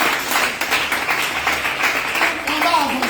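A church congregation applauds in praise of the Lord, a steady wash of many hands clapping together across the whole stretch, with voices and cheers mixed underneath.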